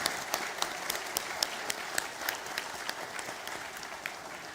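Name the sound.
audience applause for the talk show guests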